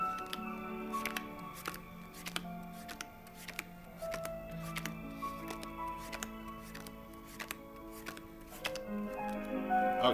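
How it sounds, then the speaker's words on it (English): Playing cards dealt one at a time into two piles, each landing with a crisp light snap in a steady, even rhythm, close up over a soft musical background. "now deal them one at a time into two piles"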